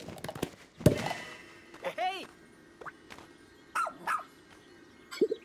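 In the Pikmin 4 video game, a rescue pup dog barks while digging through dirt, giving a few short yips and barks spread out with soft digging thumps and game effects between them.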